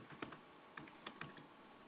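Quick, faint keystrokes clatter on a computer keyboard, several soft taps in an uneven burst.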